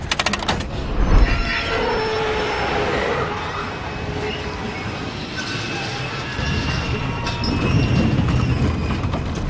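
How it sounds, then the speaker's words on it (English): A train rumbles loudly as it slows, with metallic wheel squeals and grinding building toward a halt, close by. "how the conductor reacts when the train comes to a complete stop"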